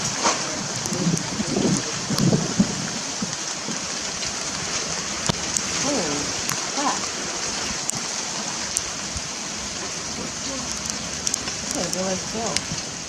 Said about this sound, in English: you and I know what this is. It's hail.